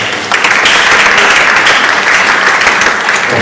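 A summit audience at a women's business empowerment event breaks into loud, sustained applause that starts abruptly and holds a dense, even wash of clapping to the end.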